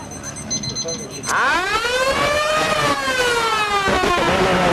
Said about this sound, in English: siren about to sound in the next couple of seconds